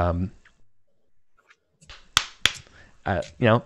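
Two sharp, close hand claps ring out in quick succession during a tabletop role-playing session, imitating porcelain bodies clapping. Voices talk before and after the claps.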